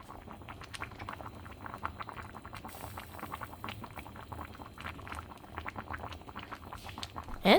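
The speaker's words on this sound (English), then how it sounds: "some bubbling soup ASMR" Shrimp and tofu soup bubbles in a clay pot, a dense, continuous popping and gurgling of close, small bursts at a steady simmer, with no voices.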